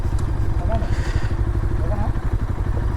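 Bajaj Pulsar 220F BS6 or NS200 BS6 motorcycle engine idling before a drag race, a close, steady low rumble with a rapid rhythmic pulse, heard under people talking nearby.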